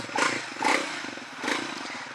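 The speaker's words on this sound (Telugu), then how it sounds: "సింగిల్ సిలిండర్ కానీ సౌండ్ మాత్రం చాలా బేసీ ఉంది, చాలా బేసీ." A Triumph Thruxton 400 single-cylinder motorcycle idles nearby with a deep, bassy exhaust note, rising in a few brief swells over about two seconds.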